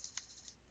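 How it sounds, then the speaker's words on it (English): Light keyboard taps on a computer keyboard while building a website, a few sparse, quiet clicks spaced irregularly with no talking. "I swear I can't type today."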